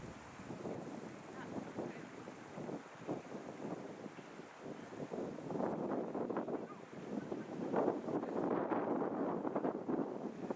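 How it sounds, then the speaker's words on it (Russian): Steady, gusty wind roars across an exposed outdoor microphone on Shushpa mountain in Bashkortostan in autumn, rising and falling in buffeting surges with no clear voices. "Ветер здесь на горе"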